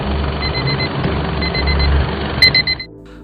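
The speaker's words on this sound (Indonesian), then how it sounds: "akibat suara alarm yang cukup mengganggu" An electronic alarm clock beeps in repeated rapid bursts over a low hum, then cuts off near the end.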